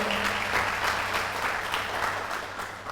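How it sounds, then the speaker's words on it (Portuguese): A church congregation applauds during a service, a steady wash of many hands clapping together for a few seconds, fairly loud and even throughout. "dá um aplauso ao Senhor aí, poxa."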